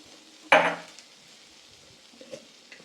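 Okra fry being stirred in a pan, a single short scraping clatter of a utensil against the pan followed by quiet, with a faint clink later on.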